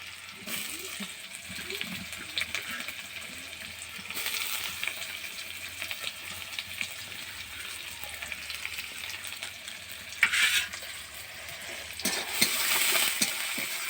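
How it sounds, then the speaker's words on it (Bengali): Garlic and onion paste fries in mustard oil, a steady bright sizzle with soft stirring scrapes throughout and a brief louder burst of hissing toward the end. "আমি এখন রসুন আর পেঁয়াজটাকে ভালো করে একটু কষিয়ে নেব"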